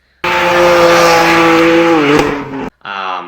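A single turbo BMW F80 M3 with anti-lag revs hard in a loud sustained tonal roar that dips in pitch, cuts out abruptly, then resumes with rapid fluttering pops.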